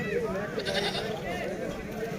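Goats and a lamb bleat, rising and falling repeatedly at a goat market over a busy background of people talking, with several animal calls overlapping at moderate distance.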